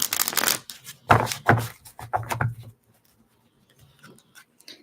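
Several quick papery riffles of tarot cards being shuffled, close and crisp, followed by near silence with a few faint taps.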